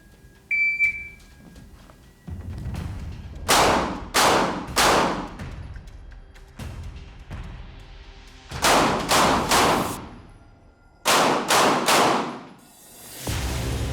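Double-action pistol shots fired during close quarters tactical training, in loud sharp clusters of three or four rapid reports with pauses between, close and echoing, with a faint electronic beep near the start.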